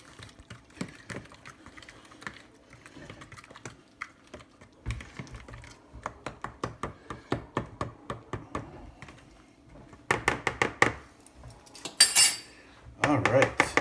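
A utensil clinks and scrapes against a bowl while banana bread ingredients, including maple extract, are mixed, giving a close, irregular series of sharp taps with louder, faster bursts toward the end.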